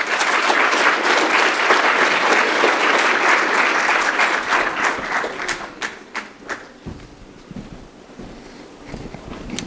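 An audience at a legal sector summit applauds a panel, dense loud clapping that thins out after about five seconds into scattered claps and faint room noise.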